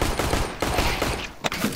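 Rapid bursts of gunfire in the video game CS:GO crackle close and loud, a quick volley of shots with brief gaps between them.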